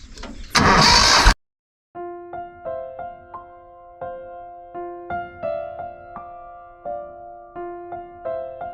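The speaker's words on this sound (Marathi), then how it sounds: "ट्रॅक्टर उभा करून चालू आहे" A brief burst of noise, then a diesel engine turns over and settles into a steady, lumpy idle with rhythmic chugging, close by.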